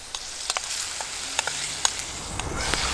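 Chicken teriyaki with garlic and sesame sizzling in a thick-bottomed stainless steel skillet over campfire coals, a steady frying hiss broken by sharp pops and occasional scrapes of a utensil, heard up close.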